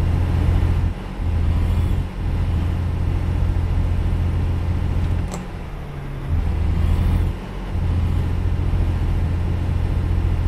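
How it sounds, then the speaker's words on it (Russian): A car engine in a video game drones loudly and steadily at maximum revs, briefly dipping a few times before returning to the same strained pitch. "движок-то насилую на максимуме оборотов фигачу"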